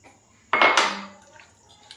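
Water splashes briefly into a pot of potato and pointed gourd curry, a single short burst of pouring that fades out within a second in a quiet kitchen.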